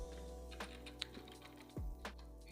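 Keystrokes on a Bluetooth mechanical keyboard, a few sparse clicks and thocks heard close up over a low steady hum, with one heavier bottoming-out strike near the end.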